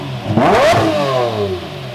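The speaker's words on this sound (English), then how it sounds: "Quite possibly the best sounding V12 in the entire world, a manual LP640." Lamborghini Murcielago LP640 V12 with a manual gearbox and deleted catalytic converters and mufflers revs hard, a loud, close, rising snarl that peaks and then falls away into a raspy idle. No one speaks.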